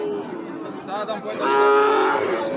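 Sahiwal cattle at a cattle market moo with a loud, drawn-out harmonic call that swells in its second half, over a steady murmur of crowd noise.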